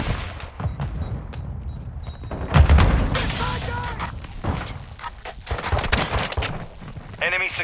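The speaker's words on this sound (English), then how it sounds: "Throw a flash grenade!" A flash grenade goes off in the Call of Duty: Modern Warfare II video game, a loud boom amid gunfire with a sharp ringing tone after it, while game voices call out.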